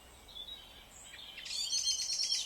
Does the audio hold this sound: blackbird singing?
yes